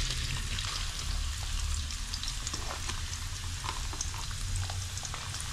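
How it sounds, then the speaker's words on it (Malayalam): Coconut pieces frying in hot oil in a traditional uruli for Kerala-style beef fry, a dense, even crackling sizzle that carries on without a break and without any voices. "ചൂടായി വന്നിട്ടുണ്ട് അതിലേക്ക് നമുക്ക് തേങ്ങക്കൊത്ത് ഇട്ട് കൊടുക്കാവേ"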